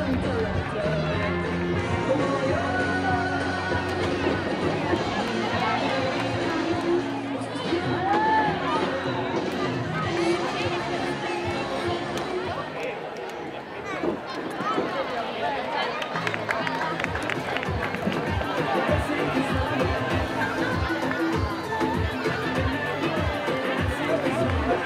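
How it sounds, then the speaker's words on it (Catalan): A crowd roars and cheers for a young cow leaping obstacles at a street bull event in a town square, a dense continuous ovation with shouting and babble, commentary running over it. "El públic ovacionava la vaqueta."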